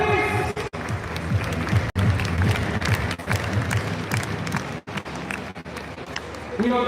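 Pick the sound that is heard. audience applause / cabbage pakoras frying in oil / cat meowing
audience applause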